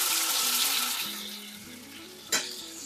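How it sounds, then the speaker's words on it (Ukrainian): Potato pancakes with cheese and dill sizzle and crackle in a frying pan, a steady hiss of hot oil with a sharp scrape or clatter near the end. "Перегортаю, накриваю кришкою та даю просмажитись гарненько ще півтори-дві хвилинки."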